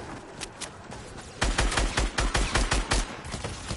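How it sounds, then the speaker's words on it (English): Shotgun fire in Fortnite: a rapid string of about a dozen heavy, booming shots in quick rhythm follows a few lighter pops, loud and close, with no talk over it. "Shotgun."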